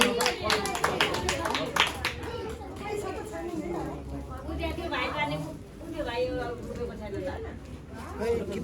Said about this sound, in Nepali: सबैजनाले हाम्रो भाइ बहिनीहरूलाई फेरि पनि एकचोट जोरदार तालीका साथ स्वागत गरिदिनु होला